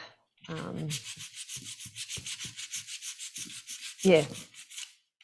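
Rapid rhythmic scrubbing or rubbing strokes, close and steady, cleaning burrs left from sawing and drilling off a cut edge, with a brief louder scrape near the end.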